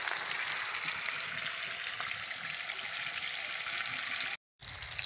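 Homemade chicken satay sizzles in oil with a constant close hiss and faint crackling that fills the whole stretch, cutting out briefly near the end before resuming.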